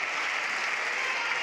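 A hometown crowd applauds steadily at a girls' basketball game against Swanton in a gym, a dense, even wash of clapping that holds at one level throughout with no pauses.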